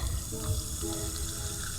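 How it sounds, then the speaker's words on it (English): A sweetened spiced drink, naturally sweetened with agave, pours from a small 7-ounce can in a steady, continuous splashing stream close by, with no talking. "So let's go ahead and pour this in."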